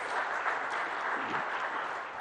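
Warm, steady applause from the audience at a business conclave in Hyderabad, continuous dense clapping at moderate volume.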